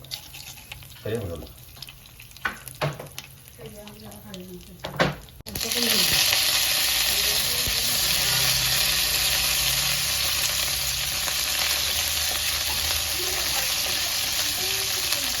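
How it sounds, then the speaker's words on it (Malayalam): Fenugreek and mustard seeds hit hot oil and burst into loud, continuous close sizzling about a third of the way in, after a quieter stretch with voices and kitchen clatter. "എണ്ണ ഒഴിച്ചിട്ട് നമ്മൾ ഉലുവ ഇട്ടു, പിന്നെ കടുക് ഇട്ടു."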